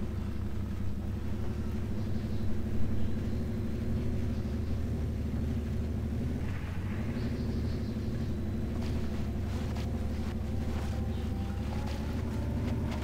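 A heavy off-road truck engine in the SpinTires driving game rumbles steadily while driving, a loud, continuous low drone with slight shifts in pitch and no speech over it.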